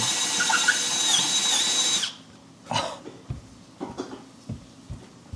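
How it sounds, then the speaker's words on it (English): A power drill whines loudly and steadily for about two seconds while drilling out an old bulkhead fitting on a 400-gallon reef aquarium, then stops, followed by scattered knocks and clunks of tools against the fitting. "You can see him drilling into the bulkhead. Basically drilling out the old fitting."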